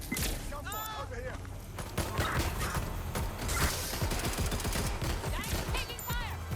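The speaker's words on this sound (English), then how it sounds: "Gunfire! Over here!" Rapid bursts of gunfire crackle amid chaotic action in the video game Watch Dogs: Legion, with shouted voices and electronic chirps over the shooting.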